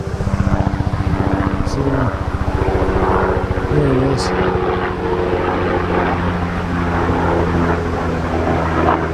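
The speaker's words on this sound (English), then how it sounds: "I don't know where this helicopter is going" A low, steady rotor-like engine drone hums throughout, loud and continuous, with a person briefly speaking over it.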